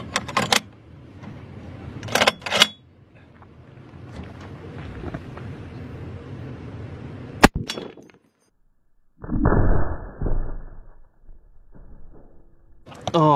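A 12.7 mm sniper rifle round strikes a tank driver's bulletproof periscope, about 8 inches thick, giving a sharp, loud crack of impact amid gusty outdoor wind noise and other bangs, with people talking.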